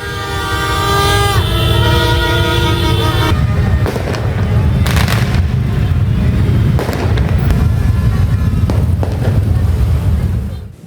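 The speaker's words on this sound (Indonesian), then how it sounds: "warga senang melihat kembang api meskipun dinyalakan sendiri oleh masyarakat yang memadati Jalan" Crowd-lit fireworks at a New Year celebration on Jalan Tunjungan in Surabaya, Indonesia. Loud continuous bursts and crackling, with horn-like toots at the start.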